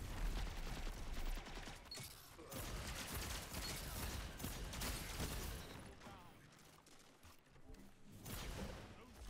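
Rapid gunfire rattles in Destiny 2 during a player-versus-player shotgun match, bursts of loud blasts and mechanical clatter repeating across the clip amid game effects.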